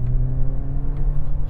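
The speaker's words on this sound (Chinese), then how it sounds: "一给油门的时候， 听到后面那个排气有一点那种凶悍的、 想要发力的声音啊" MG5 car in Super Sport mode, its exhaust giving a steady low droning roar under acceleration from inside the cabin, continuous and fairly loud with no talk.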